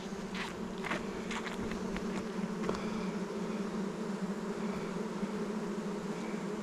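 Honey bees hum in an open hive being inspected, a continuous close buzzing drone with a few louder passes of individual bees flying by near the microphone, and no talking.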